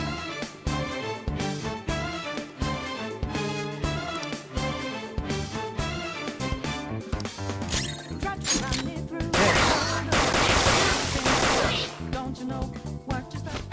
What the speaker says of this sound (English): Point it at a shadow and fire.